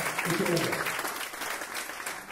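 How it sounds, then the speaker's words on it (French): Audience applause at a talk on green IT in Nantes, a dense steady clatter of many hands clapping throughout, fairly loud and close. "Et je vous demande à nouveau de les applaudir."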